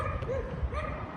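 Several dogs bark and yip in short, overlapping bursts at moderate distance, a busy, continuous chorus across a brief moment with no talk over it.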